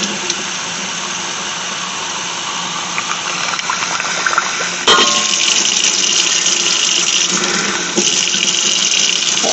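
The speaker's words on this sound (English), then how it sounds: "we're going to fill them with tap water, and it's just going to be kind of lukewarm tap water" Lukewarm tap water runs steadily from a faucet into jars packed with turkey for pressure canning, a continuous close gushing splash that grows fuller and louder partway through as the jars fill.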